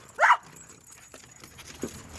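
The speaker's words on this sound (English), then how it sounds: "You can stop barking at me." A lively dog barks once, loud and close, early on, then a second fainter yelp follows near the end, against quiet outdoor background.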